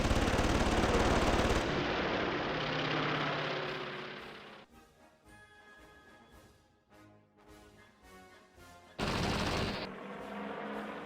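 Aircraft machine guns strafe the airfield at Tangmere in a Battle of Britain flight game: loud rapid bursts of automatic fire over engine roar, then a quieter stretch of scattered pops and tones before another sharp burst near the end.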